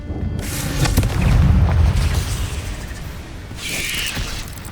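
A Confringo blasting spell goes off in the Hogwarts Legacy video game: a deep, booming explosion swells and rumbles, followed by a fainter crackling burst near the end.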